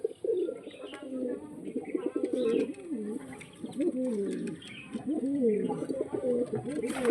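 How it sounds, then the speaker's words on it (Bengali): Pigeons coo repeatedly nearby, soft throaty warbling calls rolling one after another with faint chirps in the background. "এটা এই পায়রাটা, আরে দাঁড়া রে ভাই, দেখুন চোখটা দেখুন।"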